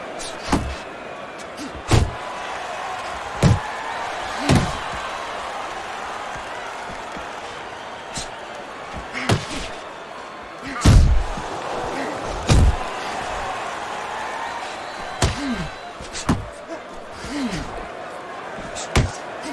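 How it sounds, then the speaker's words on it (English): Boxing punches landing in the Fight Night Champion video game during a Lennox Lewis vs Riddick Bowe heavyweight simulation, a series of sharp thuds at irregular intervals over crowd murmur and commentary. "That's a fierce left hand that landed by Lewis"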